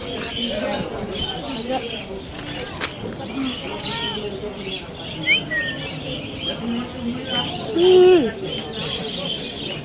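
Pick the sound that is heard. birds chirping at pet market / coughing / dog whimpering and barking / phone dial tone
birds chirping at pet market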